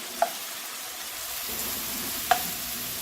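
A pan sizzles softly while ingredients saute in wine until it cooks off, a low steady hiss broken by two sharp utensil clicks against the pan.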